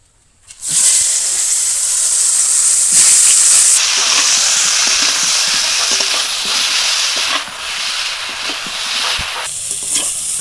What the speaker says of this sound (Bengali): এখানে হাফ সেদ্ধ করে রাখা ফুলকপি আর আলু ভেজে নেবো